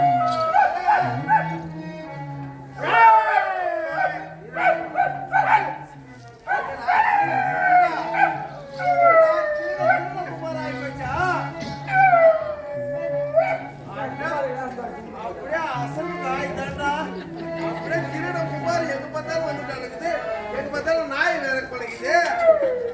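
A dog howls during a Tamil devotional stage drama, with long rising and falling wails repeated across the stretch, loud and close, mixed with voices that may be performers imitating the howl.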